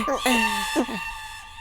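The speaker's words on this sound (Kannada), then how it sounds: "ಪಂಡಿತ ರಾಮಕೃಷ್ಣ, ಕೋಳಿ ಹಾರಿ ಹೋಯಿತು." A chicken gives a short burst of loud, close squawking clucks, then falls quiet.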